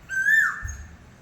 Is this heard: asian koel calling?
yes